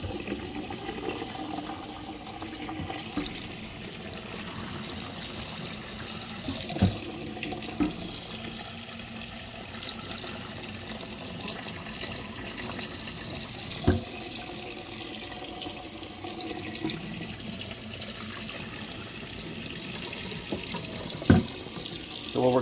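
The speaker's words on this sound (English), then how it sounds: "I'm going to go ahead and put extremely cold water on it. I'm going to let it run until it overflows." Cold tap water runs steadily into a pot of cooling quail eggs, a continuous close hiss and splash from a kitchen faucet with a few faint clinks and no talk.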